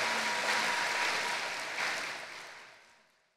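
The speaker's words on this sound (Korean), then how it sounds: "은혜의 말씀을 전해주신 양승호 목사님께 감사의 박수 드리겠습니다." A church congregation applauds, a dense burst of clapping that holds steady for a couple of seconds before fading away.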